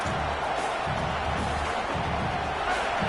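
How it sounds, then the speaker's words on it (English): Steady, loud crowd roar filling a football stadium, a continuous broad wash of many voices with no distinct breaks. "The roar of the crowd trying to fuel this defense to keep them pinned in their own end"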